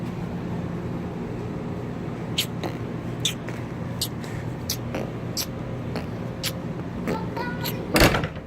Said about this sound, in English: Boy, close my door.